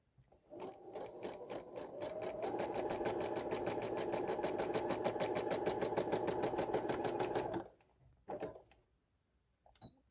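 A sewing machine stitches ribbon trim onto a tutu, running in a steady fast mechanical chatter for about seven seconds before stopping, then giving a short extra burst. The sound is close and loud, with no talking.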